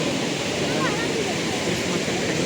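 Cold mountain water rushing downhill at Kedarnath, a steady, dense roar of flowing water close by with no break.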